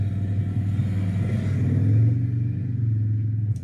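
Race car engine on a motor competition track, a loud steady rumbling drone that rises and falls slightly as it revs, heard alone without talk.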